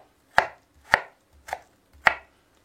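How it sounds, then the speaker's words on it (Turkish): A knife dices tomatoes on a cutting board with four chops in an even rhythm, crisp and close, with no talking. "Domateslerimizi küp küp doğrayalım."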